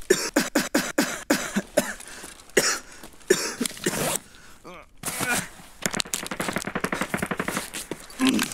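Coughing in the shooter game Escape from Tarkov, a burst of sharp repeated hacks at the start, then scattered coughs and throat-clearing mixed with rapid clattering sounds and some talk.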